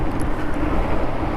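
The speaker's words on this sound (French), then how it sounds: "Là c'est une moto électrique." Super Soco TSX electric motorcycle, a 50 cc-equivalent model, riding along in first gear, giving a steady low rumble of motor and road or wind noise, fairly loud and continuous without talk.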